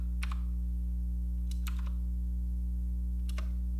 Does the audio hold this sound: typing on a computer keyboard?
yes